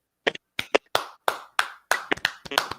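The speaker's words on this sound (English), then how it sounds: "We got to give him a round of applause." A short burst of applause from one or a few people, about a dozen uneven claps over a few seconds, close and fairly crisp, with no talking.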